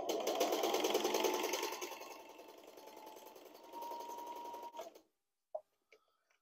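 Sewing machine running steadily as it stitches a scrap of boat seat upholstery material, a loud continuous whir for about five seconds before stopping, followed by a couple of faint clicks.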